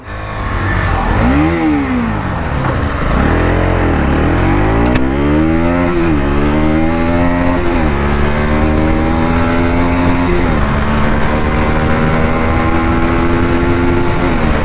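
A KTM Duke 250 motorcycle races along a highway, its engine loud and close, climbing through repeated rising revs and gear shifts over a constant roar of wind and road noise.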